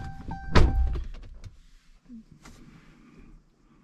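A car door swings shut with one solid, close thunk early on, followed by a few softer knocks and rustles inside the quiet vehicle.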